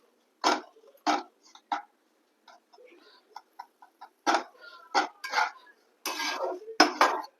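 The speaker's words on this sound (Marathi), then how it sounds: "सतत हलवून भाजून घ्यायचा आहे" Semolina being stirred and roasted in ghee on a low flame, heard as sharp, close metallic clinks and scrapes of a spoon against the pan. The strokes come in irregular bursts with quiet gaps between them.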